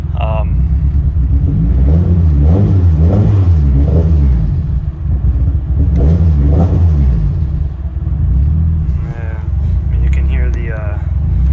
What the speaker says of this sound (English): Turbo really going crazy.